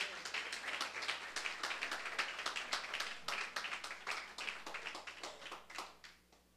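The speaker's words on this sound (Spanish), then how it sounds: "Denle un aplauso a Jesús" Church congregation clapping for Jesus, many hands in a brisk, dense ovation that holds steady then thins out toward the end.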